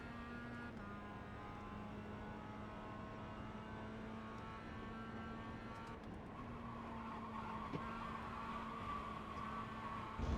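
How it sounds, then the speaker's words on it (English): A race car engine in iRacing roars steadily with tires squealing and skidding under understeer, a continuous loud drone with rising pitch toward the end. "Probably hear the poor tires screaming for mercy right about now."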